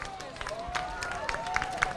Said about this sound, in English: So far, the most applause ever.